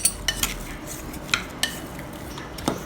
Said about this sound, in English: and just mix them up well together.